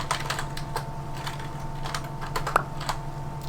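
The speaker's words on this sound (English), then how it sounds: "So we can type in / and then type in the command that we want to do." Someone types a command on a computer keyboard: quick, irregular key clicks with a few sharper taps, close up and steady over a faint background hum, with no talk.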